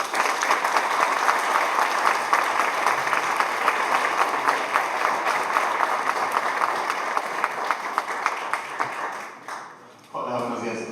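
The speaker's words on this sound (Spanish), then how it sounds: "Recibámonos con un fuerte aplauso." A conference audience gives a speaker a long round of dense applause from many hands that holds steady for about nine seconds, then dies away as a voice begins speaking.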